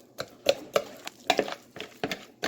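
Ripe banana chopped with a whisk in a bowl for Jamaican-style banana fritters: close, uneven tapping and clinking strokes of wire against the bowl, about a dozen in quick irregular succession.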